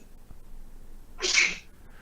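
A single sharp sneeze bursts out near the middle, brief and fairly close, against a quiet room background.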